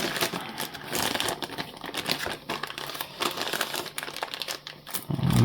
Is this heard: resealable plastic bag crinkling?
yes